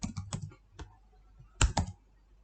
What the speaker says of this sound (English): you can just type here